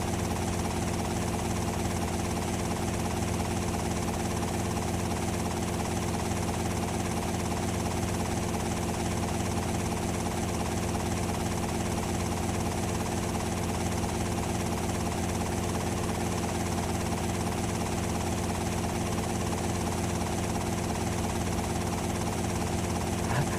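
Helicopter engine and rotor in GTA Vice City Stories, a steady loud droning whir with constant vibration running unbroken throughout, no voices.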